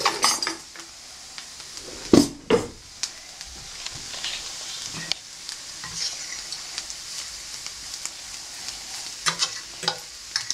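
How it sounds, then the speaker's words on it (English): Tomato paste and paprika fry in a pan for goulash, a soft continuous sizzle with stirring scrapes and a few sharp spoon clinks against the pan, close and steady, with no talking. "You've got to fry it off."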